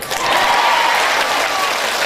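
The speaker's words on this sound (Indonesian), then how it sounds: "Tepuk tangan dulu ya." A burst of loud applause from a crowd at a large Islamic religious gathering, dense clapping sustained throughout.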